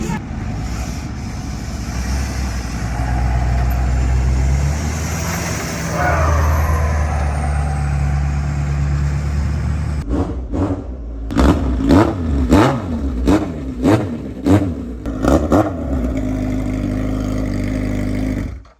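The world's largest street-legal monster truck rumbles and revs loudly up close, with a hiss like an air brake, then chopped, pulsing engine bursts toward the end.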